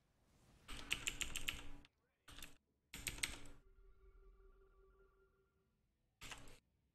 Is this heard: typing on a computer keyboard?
yes